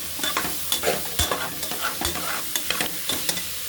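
Onion and carrot sautéing in a pan for vegetable biryani: a constant close sizzle broken by rhythmic spatula scrapes and taps, with no voices.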